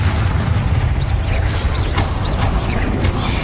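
Heavy, booming blasts and crackling bursts as spells are cast in combat in the Hogwarts Legacy video game, loud and continuous with repeated impacts layered over a dense low rumble.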